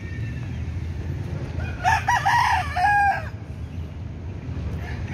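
A rooster crows once at close range, a loud drawn-out call lasting over a second, set against steady outdoor background noise on a farm with many chickens.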